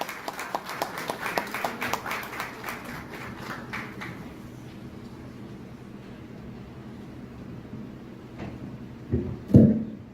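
An audience at a university lecture on the philosophy of human rights claps to welcome a speaker, with distinct handclaps in the first four seconds fading into room noise, then a couple of close thumps near the end.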